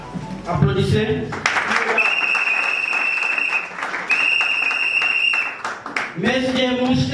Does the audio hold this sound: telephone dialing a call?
no